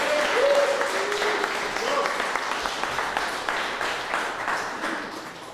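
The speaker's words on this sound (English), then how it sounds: "please give a round of applause to Jim" A conference audience at a startup day in Mexico City claps for a speaker, a steady wash of applause that starts full and slowly thins out, with a brief voice at the start.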